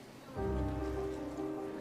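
Steady rain falling outdoors in Abingdon, a constant dense wash of noise that begins abruptly and continues evenly, with a low hum underneath.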